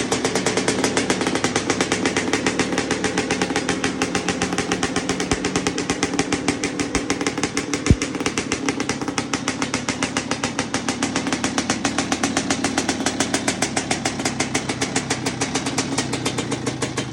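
A Suzuki LT250R quadracer's two-stroke engine, running a little rich, idles nearby with a steady, rapid, buzzing putter that holds an even pitch throughout, with one brief sharp tick midway and no voices.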